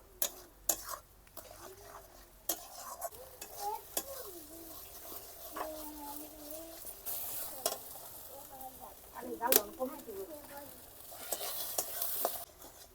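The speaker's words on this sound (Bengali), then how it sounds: "এখন ভালো করে নাড়িয়ে নেব সবগুলো" A spoon stirs stuffing for kakrol (spiny gourd) in a frying pan, sounding as scattered scrapes and taps over a soft, steady sizzle, with a voice speaking now and then.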